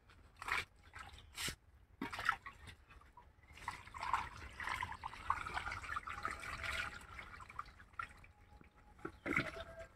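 Water trickles and drips from a fishing net lifted out of a home pond after a tilapia catch, faint, uneven splashes and dribbles coming in bursts over a quiet background.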